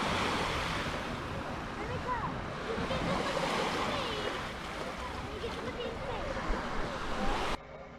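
Warm, clear ocean waves wash in at a Jamaican beach, a broad continuous surf roar with wind buffeting the microphone, steady and close until it cuts off near the end.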